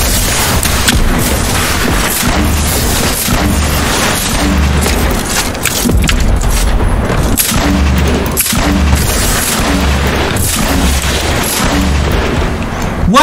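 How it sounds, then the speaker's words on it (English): Missiles blast one after another in a video game, with a continuous loud barrage of booming explosions and rumbling impacts filling the whole stretch with no pause. "Missiles coming out of the sky."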